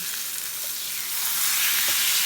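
Center cut pork chops sizzle loudly on a grill in a steady hiss that grows slightly louder as they are flipped, with a faint tap from the turning.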